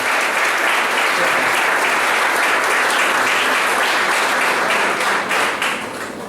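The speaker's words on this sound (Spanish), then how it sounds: "Le damos también un fuerte aplauso" A cafeteria audience at an anniversary talk gives loud, dense, sustained applause welcoming a speaker, continuous massed clapping that begins to fade in the final second.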